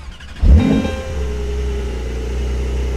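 A Porsche 911 Turbo S fires up with a sharp, loud starter crank and a burst of revs, then drops into a steady, rumbling idle that holds evenly to the end, with no voices.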